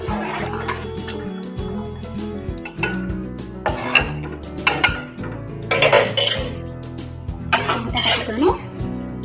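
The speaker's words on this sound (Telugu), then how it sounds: "ఇంకా మాడకుండా కలుపుకుంటూ ఉంచుకోవాలి" Jaggery paramannam rice pudding being stirred in a pot, with repeated scraping and metallic clinks of a spoon against the vessel, thick bubbling underneath, and someone talking over it.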